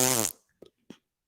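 A voice imitates a fart with the mouth: one loud, buzzy, blown raspberry burst, then two short, faint sputters trailing off into silence.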